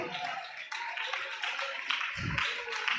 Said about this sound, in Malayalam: നന്നായി ഒന്ന് കൈയടിച്ച് ദൈവത്തെ ആരാധിച്ച ശക്തിയോട്.